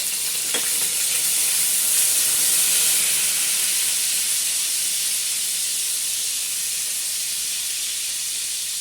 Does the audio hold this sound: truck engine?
no